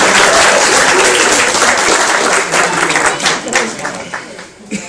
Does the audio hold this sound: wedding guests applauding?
yes